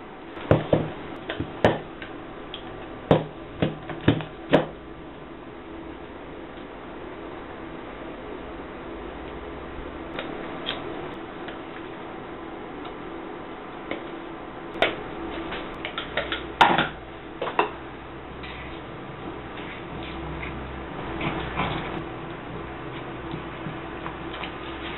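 Quince paste being stirred in a pot as it cooks and dries out: scattered scraping clicks and sharp knocks of the spoon against the pot, over a steady low hiss, irregular and close, with no talking.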